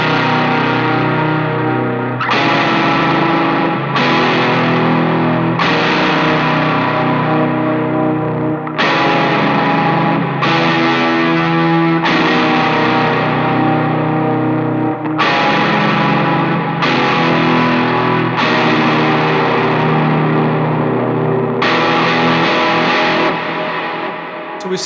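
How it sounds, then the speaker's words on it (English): Electric guitar with high-gain distortion and reverb rings out sustained single-strum diamond chords, each hit left to decay before the next, loud and alone with no voice. "So we still want to keep the high gain, but we're just going to diamond those chords."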